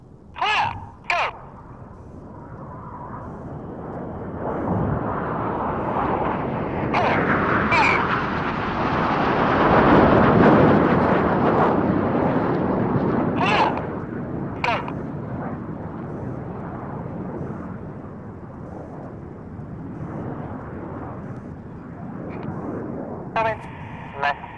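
Red Arrows jets roar overhead while performing rollbacks at the RNAS Yeovilton International Air Day, a loud, broad engine rush that swells to a peak and slowly fades, with a commentator talking over it.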